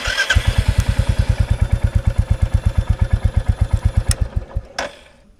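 A 2023 Royal Enfield Bullet 350 single-cylinder engine fires up and runs with a deep, even thumping beat, close and loud, then cuts off abruptly near the end after a couple of sharp clicks.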